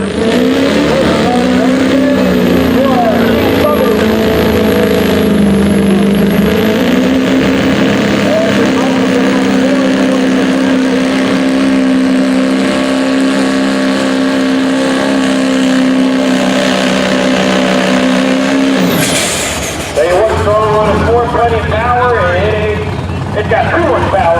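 A diesel truck pulling at a county tractor pull, its engine roaring loud and steady for about twenty seconds before cutting off, with an announcer talking over it and crowd noise afterward.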